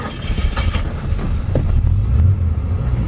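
A 1955 Chevy Bel Air two-door hardtop resto-mod with a 350 V8 starts up and settles into a loud, steady idle, heard close and alone.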